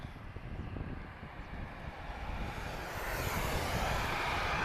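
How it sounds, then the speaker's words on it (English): Aircraft engine roar at Lisbon Airport from a small plane, a steady loud broadband rumble that swells and grows stronger toward the end, with no talking. "that's a loud noise for a small aircraft"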